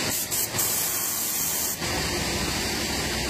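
Anti-rust rubber undercoating sprayed onto a Honda HR-V, a loud, close, continuous hissing spray with a couple of brief pauses near the start.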